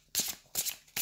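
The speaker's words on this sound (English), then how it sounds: "As we're shuffling, why don't I give you a moment to just focus on your question." Tarot cards being shuffled by hand, three quick riffling bursts in close succession, crisp and near.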